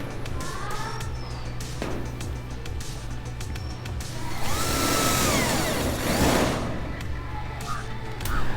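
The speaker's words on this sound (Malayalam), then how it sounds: "അത് നമ്മൾ ഇതിലേക്ക് ഈ ഒരു GI സ്ക്വയർ ഇത് പൈപ്പുണ്ടല്ലോ അതിലേക്ക് നമ്മളത് സ്ക്രൂ ചെയ്ത് പിടിപ്പിക്കുകയാണ് ചെയ്യുന്നത്." A power drill runs in short bursts and then a longer whining stretch while screws are driven into a GI square pipe frame for a biofloc fish tank, close by, with someone talking over it.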